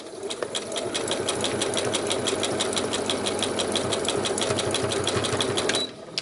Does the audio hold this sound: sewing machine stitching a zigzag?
yes